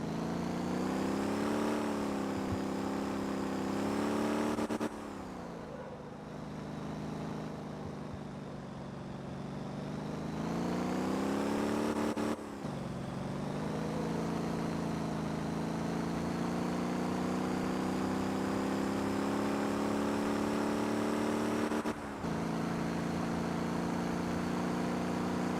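A car engine in the driving game Motor Town: Behind the Wheel revs up steadily through the gears, pitch climbing then dropping at each of three shifts, loud and continuous with no voices.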